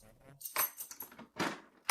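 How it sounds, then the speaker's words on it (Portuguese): Metal keys jingle and clink in several short bursts, close by, with a soft voice murmuring underneath. "Agora ele pegou as chaves."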